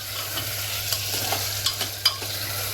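Food sizzles and fries in a pan while a utensil stirs it, scraping with a few sharp clinks. No one speaks.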